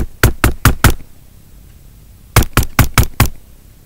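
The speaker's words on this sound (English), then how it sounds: "Hear that knocking?" Knocking on a door comes in two loud, close bursts: four quick raps, a pause of over a second, then five more evenly spaced raps.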